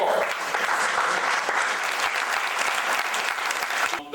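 Steady, full applause from an audience at a panel event about Emmett Till, broad and continuous throughout before cutting off abruptly at the end.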